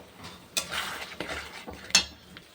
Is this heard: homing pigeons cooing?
no